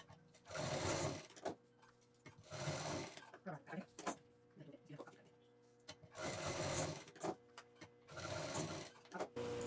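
Sewing machine stitching a quilted fabric piece onto a zip while making a sling bag, running in two pairs of steady rapid bursts with quieter handling and clicks between them.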